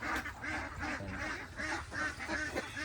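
A flock of pet ducks quacks steadily and close by, the calls coming in rapid, overlapping rhythmic bursts that go on without a pause.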